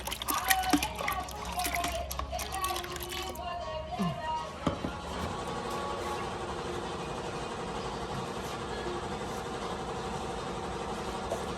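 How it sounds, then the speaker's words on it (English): Batik dye splashes and trickles steadily into a container, with a brief clatter partway through and a low background hum throughout. "And then we pour the dye in."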